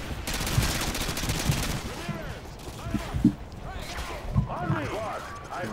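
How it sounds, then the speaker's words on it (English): Call of Duty: Modern Warfare 2 battle gunfire, a dense rattle of shots running under an urgent, chattering voice, with sharp louder bangs standing out among steady background shooting. "People are shooting."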